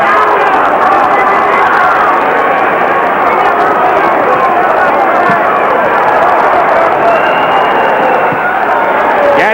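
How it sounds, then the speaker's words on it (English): A boxing arena crowd at the Arturo Gatti versus Mickey Ward fight, a loud, dense and continuous roar of cheering and shouting that swells steadily throughout, with a commentator talking over it. "Crowd gets back into it."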